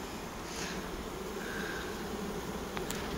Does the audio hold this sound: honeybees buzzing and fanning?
yes